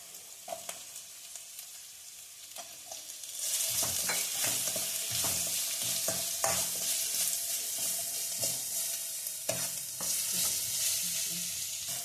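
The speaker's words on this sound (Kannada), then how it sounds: "ಆನಿಯನ್ನ ಸ್ವಲ್ಪ ಹಾಕ್ಕೊತಾ ಇದ್ದೀನಿ ಫ್ರೈಗೆ." Chopped onion and green chili sizzle in hot oil for veg Manchurian, with scraping stirs and clinks of a spoon. Soft preparation noises open the clip, then a loud, continuous frying hiss takes over, close up.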